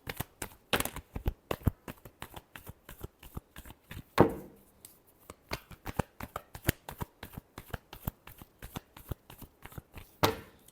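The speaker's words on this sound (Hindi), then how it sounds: "Last shuffle." Tarot cards being shuffled by hand in a long run of quick crisp riffling bursts, close and fairly quiet, with brief pauses between clusters and no talking.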